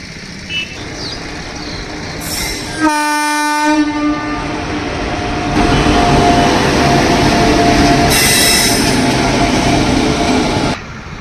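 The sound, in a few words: train approaching on railway line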